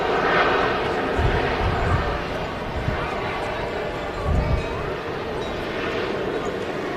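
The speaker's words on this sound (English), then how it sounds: "that loud noise coming from the Saudi as it touches down on 2-3 right" A Saudi Airbus A350, a relatively new airframe, touches down on runway 23 right at Manchester Airport, making a loud, close, sustained broadband jet roar with a couple of heavier thumps, and a voice talks over it.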